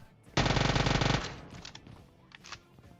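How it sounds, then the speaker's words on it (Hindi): A burst of rapid Uzi submachine gun fire in the PUBG Mobile video game rattles for close to a second, followed by fainter clatter and a few scattered game sounds. "मैं आया, उजी चलाई और सीधा पेटी बन गई"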